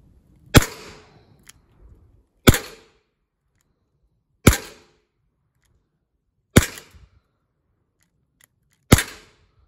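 Five loud close shots from an HDP 50 defense pistol, evenly spaced about two seconds apart, each a sharp crack with brief decay and quiet in between.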